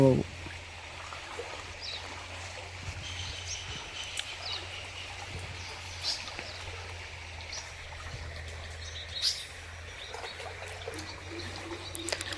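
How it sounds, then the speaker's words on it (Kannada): Water flowing along a channel where fishing nets are set, a steady low wash and trickle running throughout, faint and outdoors, with occasional bird calls and brief voices in the background. "ಅಲ್ಲಿ ನೀರು ಹರಿತಾ ಇದೆ"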